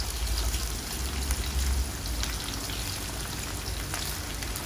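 Sliced bananas sizzle in hot oil in a pan, a close, steady crackling hiss with no talk over it.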